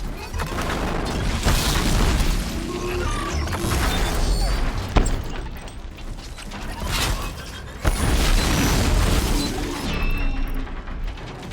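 Sticky bombs go off in the Horizon Zero Dawn video game: a couple of sharp, heavy booms burst out of a dense, rumbling mix of in-game combat noise, with a voice faintly present.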